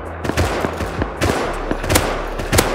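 Rapid automatic gunfire in the video game Rust, loud and close, with bursts of several shots and a steady rumble underneath.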